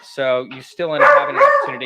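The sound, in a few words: dog barking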